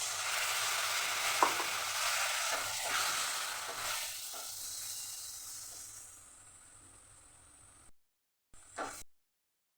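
Turmeric, salt and spices stirred together in a hot pan for korola aloo kalia, a sizzling hiss with light stirring clicks that fades gradually before a brief final scrape.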